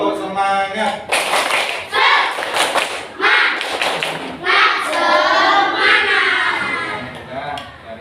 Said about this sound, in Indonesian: atasnya kita tepuk semangat bersama